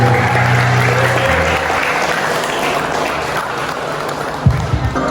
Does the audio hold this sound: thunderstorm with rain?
no